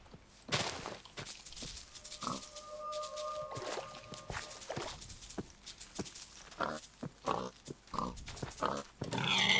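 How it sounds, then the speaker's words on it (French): Pigs in the video game Minecraft give short oinks scattered across the scene, mixed with patter-like footsteps and soft clicks. "Attends, il y a des cochons"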